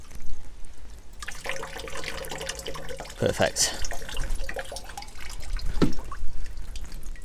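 Water pours and trickles steadily for several seconds from a watering can onto a greenhouse pipe, with a short spoken word partway through.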